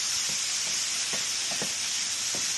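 Okra sizzling steadily in a pan on a stovetop, turned down from high heat, a constant hiss with a few faint soft clicks and stirs underneath.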